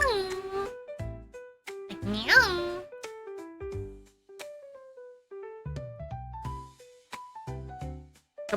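High, cartoonish video game cat meowing cries rise and fall in short bursts, scattered between quiet gaps, with a childlike voice quality.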